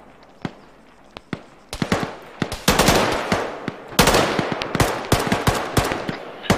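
Automatic AK rifle fire in Arma 3 during an ambush on Soviets in Afghanistan: loud, close bursts of rapid shots, sparse single cracks at first, then dense sustained volleys with short gaps.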